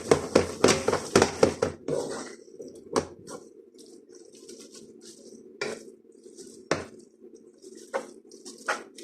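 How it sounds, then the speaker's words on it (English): Pulled beef noodles with spring onion are stirred in a pan, with quick wet clanks and squelches at first, then scattered taps and scrapes over a low background hum, close by. "we're just going to stir this in, get it all coated and mixed up"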